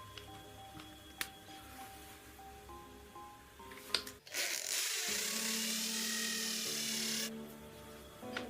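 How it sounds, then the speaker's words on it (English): A power screwdriver drives screws to fix two clips to a wall for a plastic-pipe build: faint clicks and handling, then one loud, steady motor whir lasting about three seconds before stopping. "now all that's left is to screw 2 clips to the wall"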